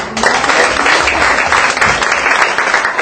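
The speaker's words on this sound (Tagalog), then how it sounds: "Bigyan po ulit natin ng isang palakpak ang Panginoon." A church congregation applauds in praise of the Lord at an anniversary worship service, steady dense clapping filling the room, loud and sustained throughout.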